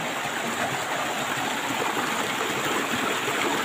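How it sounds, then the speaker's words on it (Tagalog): A creek flows in a steady, close, broadband rush of running water, unbroken and without voices. "Itong sapa na ito."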